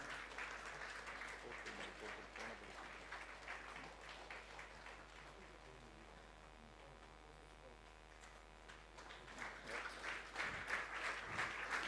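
Audience applause for an eminent Bharatanatyam and Kuchipudi dancer at an International Women's Day celebration, a steady wash of hand claps that swells louder toward the end.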